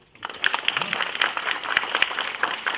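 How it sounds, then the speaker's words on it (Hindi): Audience clapping together at a lecture on the Khajuraho temple grounds, a steady, fairly close patter of many hands that keeps going for nearly three seconds. "एक बार आप मंदिर के लिए और अपने लिए ताली बजाइए"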